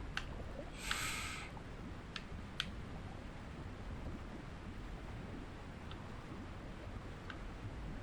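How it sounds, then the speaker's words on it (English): A waterfall in the video game Call of the Sea, a steady, soft broadband rush of falling water heard alone, with a few faint clicks and a brief brighter burst near the start. "This is just a waterfall."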